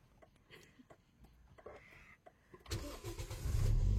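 A manual car's engine is cranked and caught: quiet clicks and faint talk, then the starter whirs and the engine fires and rises to a loud, rough run close by.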